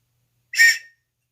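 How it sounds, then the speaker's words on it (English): A single short, shrill blast from a survival whistle out of a bugout kit, loud and close, lasting under half a second before silence. "Okay, I'm gonna do one whistle for you guys."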